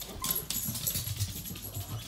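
Pet dog Cash making low whimpering, yipping sounds indoors at moderate distance, with a steady background hum beneath the scattered vocal bursts.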